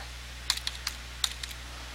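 Light, quiet clicks of typing on a computer keyboard, a handful of scattered keystrokes in two short clusters over a steady low background hum.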